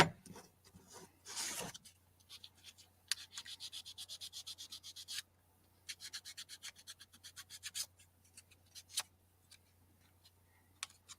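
Sandpaper rubbing a part from a Gundam Gouf Custom model kit, fast rasping strokes in several bursts separated by short pauses, close and fairly quiet, alone.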